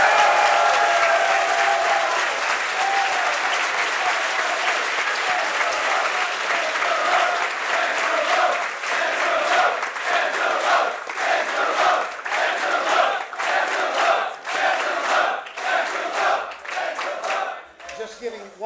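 Sustained applause and cheering from a convention audience for debate candidates, loud and dense throughout, with scattered shouts and individual claps standing out as the clapping thins toward the end.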